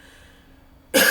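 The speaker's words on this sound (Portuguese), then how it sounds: "Mas sempre eu tenho que tossir." One short, loud cough bursts out after near silence and ends the moment abruptly.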